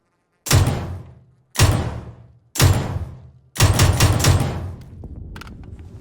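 A new long-range rifle firing in a video game: three single sharp gunshots about a second apart, each with a booming decaying tail, then a quick rattling cluster of shots, loud and close with no talk.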